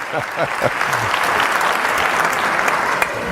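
An indoor audience applauds Mari Carmen at a talk, with sustained, dense clapping that holds steady throughout and a few voices briefly audible early on.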